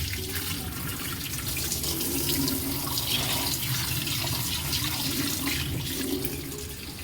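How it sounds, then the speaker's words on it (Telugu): Tap water gushes through the drain of a Thomson washing machine during servicing for a drain problem, a steady, fairly loud rushing flow that runs continuously with no pause. "మనం వాటర్తో ఫ్లష్ కొట్టేస్తాం నీట్గా."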